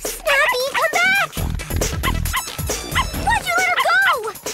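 An animated puppy yips, barks and whimpers in quick high bursts, loud and close, mixed with excited voices talking over it.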